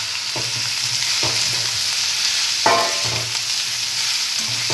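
Chopped apple, 500 grams, dropped into hot oil with chopped ginger, sizzling steadily and loudly with a few sharp spatters and stirring scrapes, no voices.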